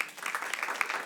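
Brief burst of audience applause at a comedy stand-up show, a soft, dense patter of many hands that stays fairly steady and distant, with a faint voice mixed in.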